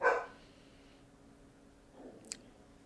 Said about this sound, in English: Our puppy is being noisy this afternoon as I record this.